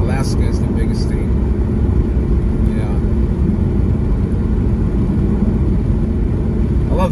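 Car cruising along a road in the early morning, a continuous low rumble of engine and tyre noise at steady level, with a voice speaking over it.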